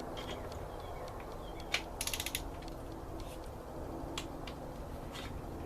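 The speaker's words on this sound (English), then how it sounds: "This sensor is torqued to 13 foot-pounds." Ratchet wrench clicks in short bursts as an engine sensor is tightened to 13 foot-pounds on a Honda Accord wagon during a cylinder head install, faint metallic ticks and a quick rattling run against a quiet garage background.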